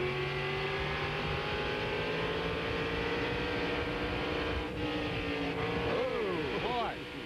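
Onboard USAC Silver Crown race car on the Phoenix oval, engine droning loud and steady through turns 1 and 2 with a rising, falling pitch near the end; a commentator talks over it.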